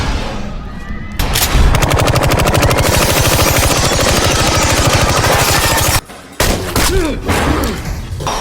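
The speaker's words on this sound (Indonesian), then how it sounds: "Tidak beberapa lama terjadi kepanikan disebabkan suara letusan senjata" Dense rapid gunfire in a violent film scene, machine-gun bursts and heavy shots rattling loudly and continuously for several seconds, then a short pause followed by scattered further shots and impacts.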